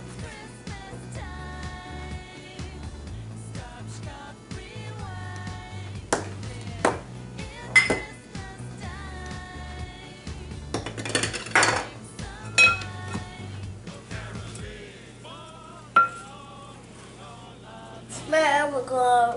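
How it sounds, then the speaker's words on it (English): A utensil clinks and scrapes against a bowl while flour, cabbage, sugar and salt are mixed, with irregular knocks and rattles close by throughout, growing busier near the end. "We will add the sugar and the salt and mix it."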